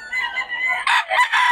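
Chickens and roosters at a busy Friday poultry market, a rooster crowing loudly nearby with clucking fowl around it.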